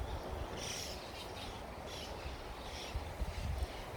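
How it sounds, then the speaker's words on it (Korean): Dozens of birds calling unseen among tree leaves, faint scattered chirps and tweets repeating over a soft outdoor background, with a few closer calls near the end. "하여튼 지금 360도로 다 찾아보고 있는데 새소리만 날 뿐 새를 관찰할 수가 없습니다."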